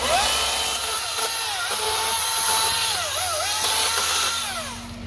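An electric chainsaw runs steadily and loudly up close, a continuous whining motor drone with shifting pitch as it cuts, lasting several seconds with no talk.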